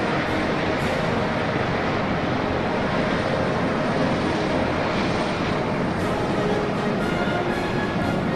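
Helicopters fly over a Chinese military parade for the PLA 90th anniversary, their engines and rotors making a loud, steady, dense roar that continues without a break.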